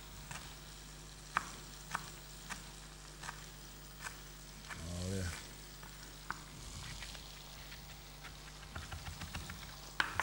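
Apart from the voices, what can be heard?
mushrooms frying in oil in a pan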